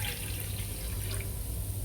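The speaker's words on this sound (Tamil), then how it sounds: "ஒரு பேன் வைக்கிறேன், கொஞ்சமாக தண்ணி ஊற்றிக்கிறேன்." A small amount of water is poured into a pan for boiling tomato, garlic and dried chillies for a momo sauce. The pour makes a steady, continuous splashing wash with no talk over it, lasting about two seconds.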